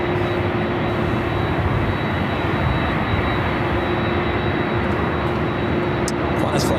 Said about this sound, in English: Qantas Flight 11 here today.